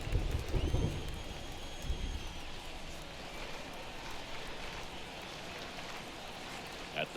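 Heavy rain pours steadily over an outdoor baseball field during a game, a dense continuous hiss with a few louder bursts early on and no clear talk over it.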